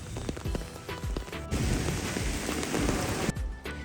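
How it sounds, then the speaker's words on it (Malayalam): Rain that has fallen since morning keeps pouring in Kerala, a steady close hiss of drops hitting surfaces with scattered louder splashes throughout. "രാവിലെ തൊട്ടുള്ള മഴയാണ് കേട്ടോ ഇത്"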